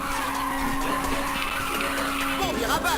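Tires squeal as a car drifts and skids through a turn in the racing video game Ridge Racer 2, a steady close screech under a continuous engine drone with no talking.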